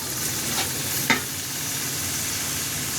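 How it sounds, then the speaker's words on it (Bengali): Spices for a masoor dal with drumsticks sauté in a pan, an even, close frying hiss with a couple of quick spatula scrapes near the start. "মশলাগুলো 2-3 মিনিট ভালো করে কষিয়ে নিয়েছি।"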